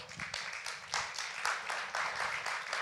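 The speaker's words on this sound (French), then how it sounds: "On peut applaudir le Seigneur et on peut les applaudir à nouveau." A church congregation applauds during a Pentecost Sunday service, a dense even patter of many hands clapping at moderate distance, continuous with no voices standing out.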